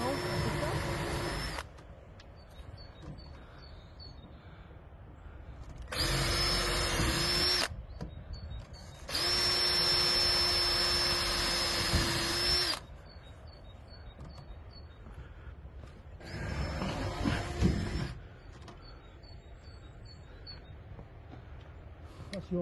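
A power drill runs in several bursts of a few seconds each, loud and close, at an outdoor build where a roof is being fitted, with quieter gaps between and people talking in French.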